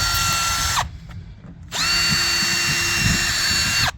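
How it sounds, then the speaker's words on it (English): A power drill whines at high speed boring holes through wood on a 1954 17-foot Chris Craft boat, briefly stops, then spins up again and runs steadily before winding down. "Drill these holes through so that you don't split the wood at all."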